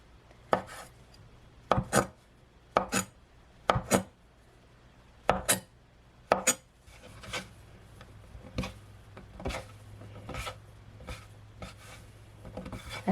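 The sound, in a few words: knife cutting flour noodle dough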